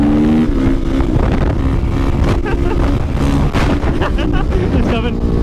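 A supermoto motorcycle engine drones loudly while riding on a street, its steady roar mixed with buffeting wind noise and a voice talking over it.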